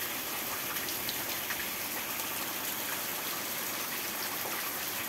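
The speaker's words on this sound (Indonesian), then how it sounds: "lagi hujan deras" Heavy rain pours down in a dense, steady hiss, with scattered drops pattering close by throughout and no voices.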